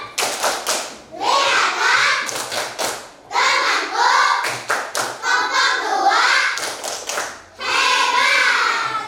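A classroom of children performs the rhythmic 'tepuk hebat' clap, bursts of patterned hand claps in repeated phrases with voices chanting along between them, close and fairly loud.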